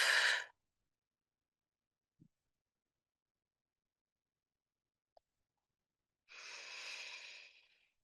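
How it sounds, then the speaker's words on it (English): Two slow, deep breaths taken as a mindfulness exercise for depression: a loud, noisy exhale at the start, then near silence with a couple of tiny clicks, then a long, airy breath that fades out. "allowing the belly to expand fully and relax with a pretty noisy breath"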